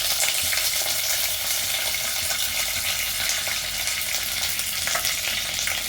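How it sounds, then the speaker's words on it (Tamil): Green chillies and curry leaves fry in hot oil in a pan, giving a loud, steady crackling sizzle that runs unbroken throughout with no one speaking. "பச்சை மிளகாய் இப்போ நான் போட்டுருக்கேன். ஆயில் வந்து ரொம்ப தெரிச்சனால கொஞ்சம் அதை நல்லா வந்து வதக்கிட்டு"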